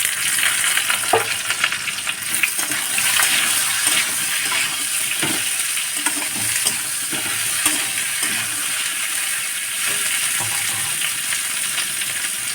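Potatoes frying in a pan with tomatoes added, a loud continuous sizzle with steady hissing and occasional stirring knocks, close and filling the whole stretch.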